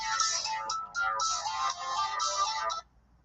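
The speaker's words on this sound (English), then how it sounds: "I'm getting a phone call, though." An incoming-call phone ringtone plays a bright, warbling melodic pattern for nearly three seconds, fairly close and steady, then cuts off abruptly into near silence.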